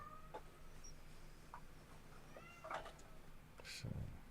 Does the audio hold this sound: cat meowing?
yes